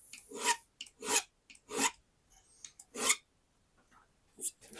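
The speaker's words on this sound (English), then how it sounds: "Take your file, Put the little burr off the end." A file takes the burr off the fret ends of a 1977 Les Paul Custom during a refret, making about five short, close rasping strokes in an even rhythm with brief gaps between them, no talking.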